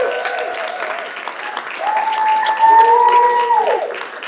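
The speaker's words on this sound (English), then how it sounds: "another round of applause for all of our partners here" Applause from a theatre audience honouring partners, a steady wash of clapping that swells toward the middle with a voice talking over it throughout.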